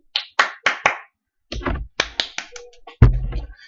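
A few sharp hand claps, first a quick run of four, then another burst after a pause, ending in one loud clap with a thump.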